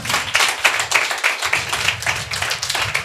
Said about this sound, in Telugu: చప్పట్లు కొడతావా?